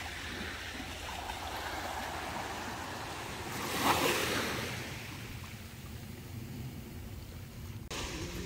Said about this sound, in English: We're on the beach now, it's so beautiful.